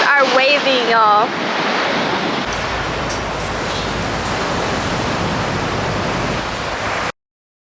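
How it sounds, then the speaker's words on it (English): Strong wind and ocean waves at a beach roar as a dense, broad wash of noise, with wind buffeting the microphone; a voice speaks briefly at the start before the surf continues alone. "the wind is blowing and the waves are waving"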